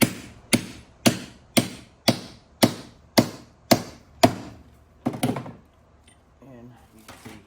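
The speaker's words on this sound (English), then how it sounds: "It'll compress, but it'll hammer on." About ten sharp, evenly spaced hammer blows ring out close by as a rubber shock bushing is hammered onto a mount on a 2004 Dodge Ram Rumble Bee, followed by a pair of quicker strikes and then a brief moment of voice.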